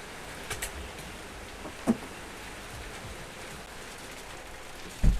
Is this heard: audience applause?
no